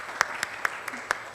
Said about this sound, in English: Let's have a round of applause for the panelists